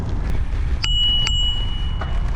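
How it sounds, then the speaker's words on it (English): A bicycle bell rings twice in quick succession with bright, sustained metallic tones, heard over steady rumbling road and engine noise from a moving car. "Let's see what the bell does to these people."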